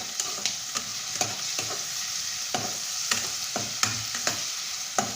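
Onion and garlic being sautéed in a pan for adobong sitaw, a steady close sizzle broken by repeated scraping stir strokes at an irregular rhythm.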